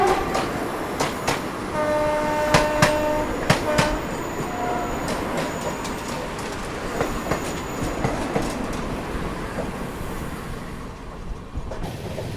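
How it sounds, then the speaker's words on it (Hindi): Trains crossing on Indian rails, the Indore Nagpur Vande Bharat Express passing, heard from inside a first-class coach: a steady rumble and rhythmic clatter with horn blasts and sharp metallic clicks, fading toward the end. "देखिए फिलहाल अपनी क्रॉसिंग होगी इंदौर नागपुर वंदे भारत एक्सप्रेस से।"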